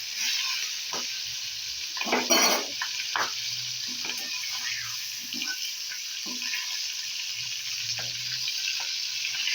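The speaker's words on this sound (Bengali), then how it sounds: "লাল লাল করে চিংড়ি মাছগুলোকে ভেজে তুলে নেব।" Prawns coated in salt and turmeric fry in oil, a steady moderate sizzle with scattered crackles and spits throughout.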